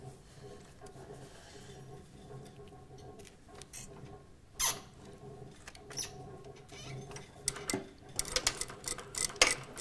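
A sewing machine stitches a dart on a panel skirt toile, a faint steady run of ticking stitches that breaks into louder bursts and clicks toward the end, with no talking.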